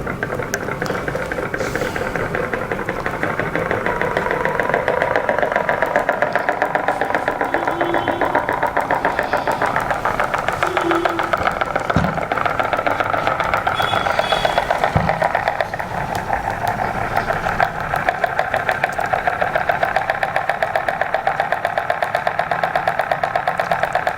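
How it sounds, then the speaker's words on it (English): A homemade solenoid engine runs continuously with a fast, even mechanical clatter and buzz, close and loud, with a couple of brief knocks partway through and no speech. "now I'm going to demonstrate you the working of this solenoid engine."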